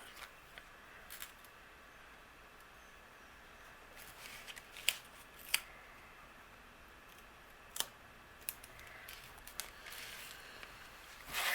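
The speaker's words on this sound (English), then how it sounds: "I'm going to trim a piece of that extra foam" Scissors trimming extra foam on a handmade paper shaker card, a faint series of soft, scattered snips and crisp clicks spread over a quiet background, with no talking.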